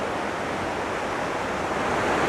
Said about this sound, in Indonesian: ada sungai kecil yang jatuh dari atas